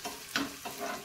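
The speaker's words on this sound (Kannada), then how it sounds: "ಸ್ಲೋ ಉರಿಯಲ್ಲಿ ಒಗ್ಗರಣೆ ಹಾಕಿದರೆ ಆಯಿತು ಸೂಪರಾಗಿರುತ್ತೆ" Spices for tempering sizzle in a pan over a slow flame, a soft crackling hiss with a couple of brief stirring scrapes, heard alone in a home kitchen.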